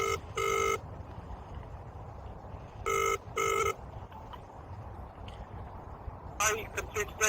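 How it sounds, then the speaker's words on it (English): A telephone rings as a monitoring centre calls back, giving two paired bursts of electronic ringing in a quiet room, followed by a flurry of brighter tones. "So they're ringing back to us now."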